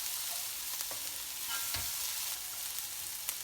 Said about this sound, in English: add a little bit of parsley, just a little bit, not a lot. Let that saute a little bit also.